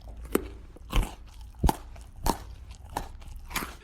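Chewing and biting into food, made as a sound effect for an audiobook scene of eating a tuna and pickle sandwich: about six distinct crunchy bites spaced roughly every half second, close and dry, with no talking.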